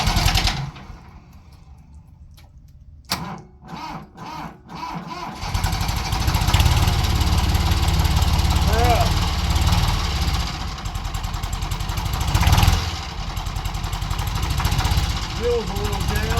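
A tractor engine with a cold battery, running after a jump start: a few rough clattering attempts, then it catches and drones loudly and steadily, with faint voices in the background.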